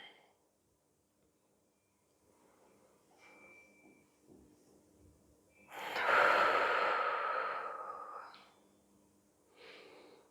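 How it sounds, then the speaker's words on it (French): Breathing during a seated back-twisting stretch where the legs and pelvis stay still, with soft breaths early on and one long, strong exhale lasting about three seconds, then a shorter breath at the end; close and fairly quiet. "On respire ici."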